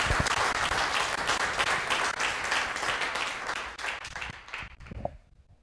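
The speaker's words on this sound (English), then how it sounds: "let's give a round of applause to all of them" An audience at a symposium's opening remarks claps for the sponsors in a loud, dense burst of applause that holds steady and then thins out and dies away near the end.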